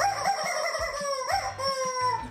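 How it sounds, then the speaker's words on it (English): A chicken sound effect, near and loud: a crowing, clucking fowl call with rising and falling squawks and a rapid series of short clucks, heard alone with no talk. "look who's here to help us with that. Oh, it's Prediction Chicken!"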